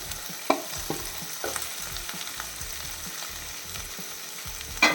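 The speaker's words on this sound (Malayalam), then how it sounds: "എല്ലാം കൂടെ നല്ലപോലെ ഒന്ന് ഇളക്കി കൊടുക്കാം" Drumstick leaves and grated coconut fry in a pan under a continuous sizzle. A spoon stirs them with rhythmic scraping strokes, and a sharper clink of the spoon on the pan comes at the start and near the end.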